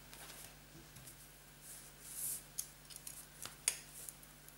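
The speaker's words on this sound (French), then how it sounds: "Alors c'est qu'un ciseau" Scissors snipping through tight vinyl record sleeve packaging, a few faint quiet cuts and small crinkly rustles over low background hum.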